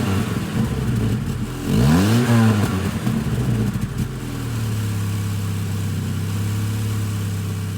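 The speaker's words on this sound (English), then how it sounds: "Now let's hear it from the outside" 1980s Nissan Prairie MPV engine heard from outside: a loud idle, then a rising and falling rev, then a settled, steady idle hum, with no talking.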